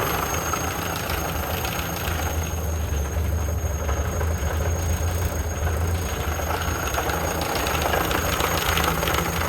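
A 1928 Ford Model A engine runs at a steady idle, a continuous low rumble with a faint high whine held throughout, close and alone.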